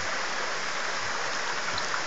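A flooded creek, normally meandering, rushes fast past a goat pen, a loud continuous broadband roar of moving water with no pauses or voices.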